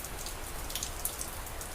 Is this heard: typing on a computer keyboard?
no